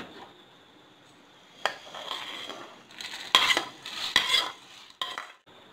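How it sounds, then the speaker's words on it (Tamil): Dried red chillies and curry leaves being dry-roasted for idli podi, with a utensil scraping and stirring in a pan in several short bursts of clatter against quiet gaps. "இப்போ காஞ்ச மிளகாவையும் கருவேப்பிலையும் நம்ம வறுத்து எடுத்துக்கலாம்."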